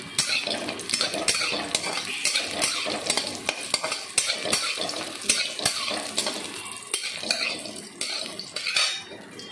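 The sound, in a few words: frying bori lentil dumplings in a pan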